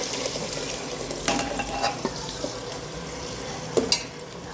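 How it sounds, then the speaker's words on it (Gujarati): Tomato puree hits hot ghee and butter in a pan, setting off a loud, steady sizzle and crackle with a few clinks of stirring, close by and without talk. "ઘી અને માખણ ગરમ થઈ ગયું છે તો હવે આપણે નાખી દઈશું ટમેટાની પ્યુરી"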